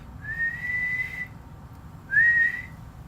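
A person whistles two clear, sustained high notes separated by a short pause, quiet and alone against a faint background hum.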